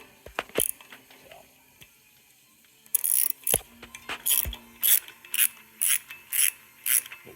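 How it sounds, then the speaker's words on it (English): A ratcheting tap handle re-taps 1/4 threads for small flathead Allen screws that hold the drive plate on a Ford 9-inch rear end. A few scattered metallic knocks come first, then a close, regular series of sharp ratchet clicks. "I forgot I got to re-tap the little flathead Allen screws that just hold this plate on"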